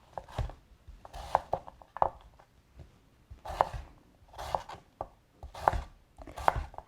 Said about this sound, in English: I'm going to cut them into about 1 inch, half an inch